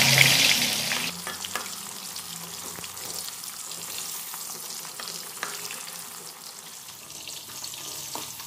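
Jengkol beans frying in a pan, a steady crackling sizzle with occasional spatters, close and continuous with no talking.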